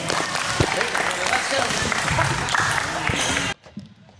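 Crowd of players at an AAU elite basketball camp clapping for a coach in a gym, dense sustained applause with some cheering that cuts off abruptly near the end.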